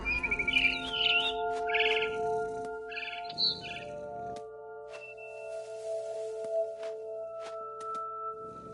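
Barn swallow chirping in What Remains of Edith Finch: bursts of high twittering calls at the start and again around the third second, set against sustained musical tones that carry on alone afterward.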